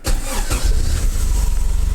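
A Toyota AE86 engine fitted with Weber 38 DGES carburetors starts: a brief cranking burst that catches quickly and settles into a loud, close, throbbing idle, with no talking.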